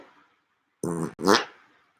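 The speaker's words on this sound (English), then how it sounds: "You can do the question mark fart." A person makes a fart noise on the body, the question-mark fart: two short, squelchy bursts close up, the second rising and then trailing off, with no talk.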